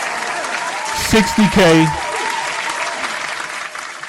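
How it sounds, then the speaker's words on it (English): A crowd's applause fills the clip, a continuous, fairly loud wash of clapping, while someone speaks briefly over it partway through. "Round of a freaking applause."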